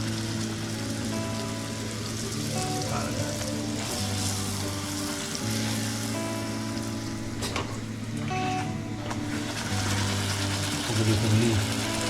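Puri dough frying in hot oil in a kadhai gives a steady, dense sizzle and crackle that runs throughout, with a low constant hum beneath it.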